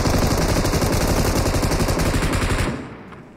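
Rapid automatic gunfire from a shooting video game, a loud continuous stream of shots for nearly three seconds that then cuts off and fades into quieter game ambience.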